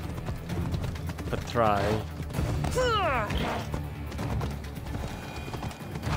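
Horse hooves clip-clop rhythmically in Assassin's Creed Odyssey, along with a horse's whinny and clattering game effects, while someone talks over the sounds.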